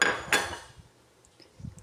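Cooked macaroni and grated carrot being mixed in a bowl for a pasta salad: two sharp clinks of a utensil against the dish near the start, then quieter faint scraping, no talk.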